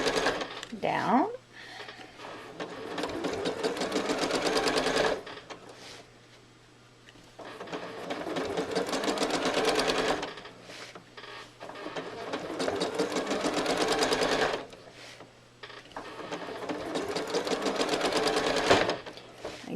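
A sewing machine stitches through quilt fabric in three long steady runs of rapid mechanical needle rattle, broken by brief pauses, close and fairly loud.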